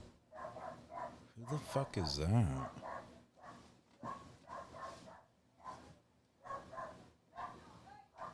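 Dogs fighting and barking outside, faint and distant barks and yelps scattered under nearby people talking and laughing.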